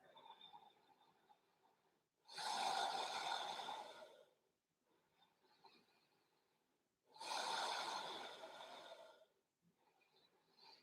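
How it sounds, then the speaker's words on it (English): Two long, loud whispered breaths through a constricted throat in Ujjayi yoga breathing, each lasting about two seconds, with softer breathing between them and no talk. "Beginning to energize the breath in the back of the throat, that Ujjayi sounding"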